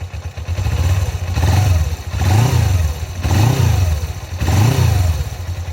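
A Suzuki GS 500 motorcycle engine revs hard in repeated surges, rising and falling about four times in a row, loud and close with a throbbing twin-cylinder beat.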